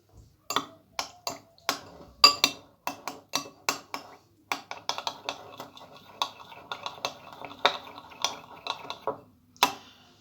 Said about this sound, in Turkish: Şimdi karıştırıyorum.